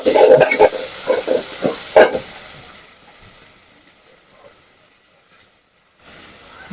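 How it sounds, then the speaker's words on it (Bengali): Fish, including prawns, frying lightly with salt in a hot pan, giving a loud hiss and sizzle at first that fades to a soft, faint crackle, with a few stirring clatters early on. "মাছ দেব পরিমাণ মতো লবণ মাছটা একটু হালকা ভেজে নেব"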